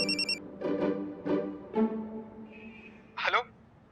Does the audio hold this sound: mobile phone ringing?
yes